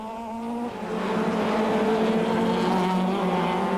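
Audi Quattro racing car at speed on the Chimay road circuit, a steady loud engine drone with rising harmonic pitch as it accelerates out of a fast chicane, close and continuous.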